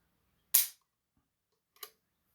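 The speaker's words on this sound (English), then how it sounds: "set the safety on the Heritage so I can dry fire it and not damage my gun" Two sharp, dry metallic clicks from a Heritage Rough Rider revolver being dry fired on a trigger gauge, a loud snap followed about a second later by a softer one, in a quiet room.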